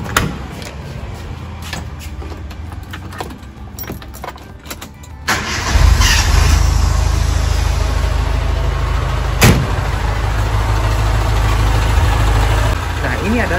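A Suzuki Katana's engine cranks and catches, then settles into a loud, steady idle that runs for several seconds, with a brief sharp click partway through.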